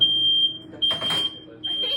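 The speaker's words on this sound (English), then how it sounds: "The alarm might go off." A kitchen smoke alarm sounds while bread bakes in an oven at 500 degrees, its loud, piercing tone repeating in long bursts with short gaps, and a brief burst of voice or noise in between.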